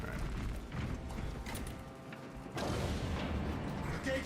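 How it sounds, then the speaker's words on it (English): Heavy gate grinding open in a Warhammer 40K game, a low mechanical rumble with creaks and clanks that swells louder partway through, beneath background game noise. "The gate is opening."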